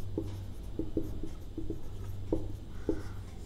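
Marker or chalk strokes on a classroom board as a word is written, a series of short squeaky taps and scrapes in an uneven rhythm, faint over a low background hum, with no speech.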